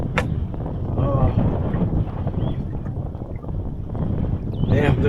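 Wind gusting across a lake during trout fishing from a canoe, a steady rumbling buffet on the microphone with faint water movement and brief squeaky knocks near the start and end.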